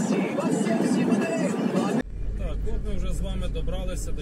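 A car drives along a road through Semypolky on the Kyiv–Chernihiv highway, heard from inside the cabin: a continuous low road rumble and engine drone, with a voice talking over it.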